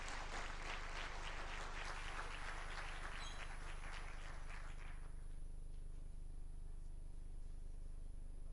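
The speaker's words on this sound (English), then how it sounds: "A round of applause again for Waziri." A conference audience applauds in a full burst for about five seconds, then the clapping dies away, leaving a quiet room with faint background hum.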